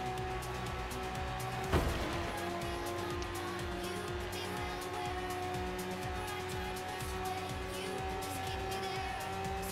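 Italian Lamborghini race car in Forza Horizon 3, its engine droning steadily through a race against a second car, with a sharp transient near the start and tonal tire squeal layered over the continuous roar.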